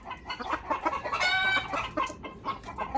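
Backyard farm chickens cluck in short, irregular bursts close by, with a few louder squawking notes in the middle and no talking.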